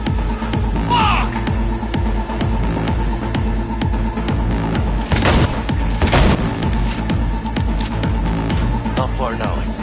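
Dense gunfire in Cyberpunk 2077, a continuous clatter of shots and thuds with a few heavier bursts, loud and close, while voices talk over the fight.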